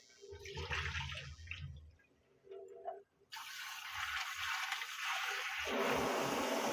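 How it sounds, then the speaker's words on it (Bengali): Mutton legs being rubbed and rinsed in water, with a rushing, splashing stream that starts, briefly stops, and returns stronger, close by and steady. "দেখতে পাচ্ছেন এইভাবে ঘষে ঘষে এটাকে ধুয়ে পরিষ্কার করতে হবে।"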